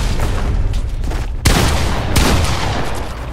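Gunfire in a shooting video game: continuous rattling bursts of shots, with two sharp, loud blasts standing out partway through, and no talking.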